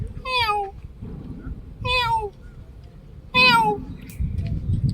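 A person imitates a kitten's meow with their voice, three high, drawn-out mewing calls spaced about a second and a half apart, close and clear over faint room noise.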